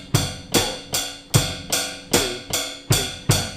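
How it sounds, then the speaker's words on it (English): Steady drum pattern with nine evenly spaced strikes on the ride cymbal, each a bright shimmering cymbal hit over a low thump, loud and close, no voices. "we're going to play this same beat we have been playing since bar 1 on the right cymbal"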